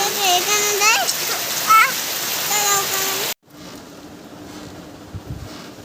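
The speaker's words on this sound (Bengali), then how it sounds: "আমরা বসে বসে এখন বৃষ্টি দেখছি, তাই তো? জল আসছে এখানটায়, ভিজে যাচ্ছি আমরা।" Rain pours and splashes water at a village home; voices talk over it for the first few seconds, then the steady hiss of falling and splattering rain continues on its own at a moderate level.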